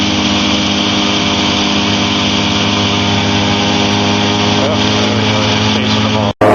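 The engine of a Challenger II ultralight aircraft throttles up in flight with a loud, steady, buzzing drone that holds throughout, then cuts off briefly near the end.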